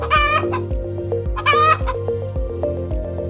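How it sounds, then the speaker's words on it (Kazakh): A chicken clucks in repeated short bursts, close and clear, over a rhythmic background music track. "Тауық қытқыттайды."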